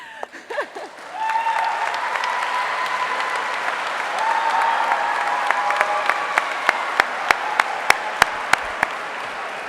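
A brief spoken start gives way to a full round of audience applause at an alumni awards ceremony, sustained for several seconds, with a series of sharp, evenly spaced individual claps ringing out near the end.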